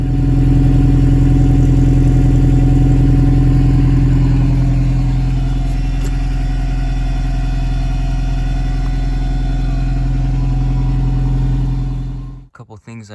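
A 1990 Toyota Pickup minitruck with a five-speed swap idles close by, a loud steady low engine rumble holding even for about twelve seconds before cutting off abruptly near the end.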